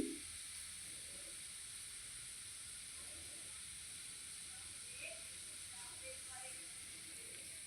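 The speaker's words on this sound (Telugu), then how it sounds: "కొద్దిగా వేగనిద్దాం జీలకర్రని." Cumin seeds frying in hot oil for an egg masala curry, giving a steady, faint hiss and sizzle that runs evenly throughout with a few small crackles.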